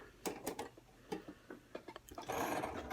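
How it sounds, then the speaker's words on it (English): Sewing machine stitching a folded skirt hem, with irregular bursts of needle clatter separated by short pauses, close and fairly quiet, ending in a denser, continuous run of stitching. "Now, as I sew, I'm folding this back twice."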